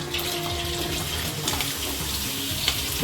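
Onions dropped into hot oil, sizzling with a steady, even hiss that carries on without pause, with no talking.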